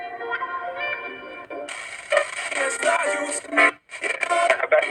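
Background noise from a KIPO KB-308AC radio receiver, with steady hiss and faint murmuring broadcast fragments that shift and briefly drop out as the tuning changes.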